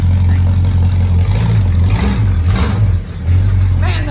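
A 1972 Chevy C10 pickup's engine runs close by, a deep low rumble that rises and falls in a few revs, with people talking over it.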